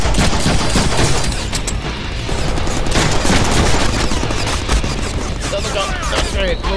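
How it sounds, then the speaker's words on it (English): Explosive blasts and gunfire from the Deadpool video game, including a flashbang grenade detonation, form a loud, dense, continuous barrage of booms and shots with game sound layered throughout. "That's a flashbang."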